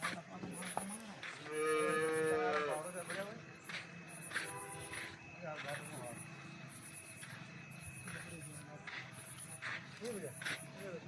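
Kathiyawadi cows on a farm give a loud, drawn-out moo nearby, followed by quieter lowing and shuffling, while someone talks over the herd throughout.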